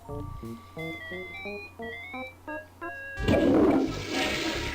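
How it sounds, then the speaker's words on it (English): A toilet flushes in the point-and-click game Day of the Tentacle, a loud gushing rush of swirling water that bursts in after a short game melody and fills the rest of the moment. "You really flushed them. Yes. Down the toilet."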